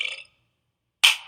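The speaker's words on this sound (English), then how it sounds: "Sorry, I just burped a little bit." A woman gives two short burps separated by a moment of silence, the second one sharper and louder.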